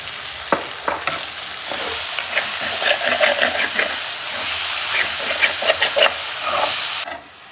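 Noodle ingredients fry in a pan at home with a steady broadband sizzle, broken by several sharp scrapes and clinks of stirring, continuous for about seven seconds before it abruptly drops away.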